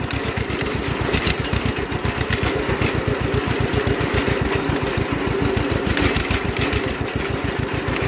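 A John Deere tractor engine runs steadily as it drives up a road, a loud close rapid throbbing chug with no pause and no voices.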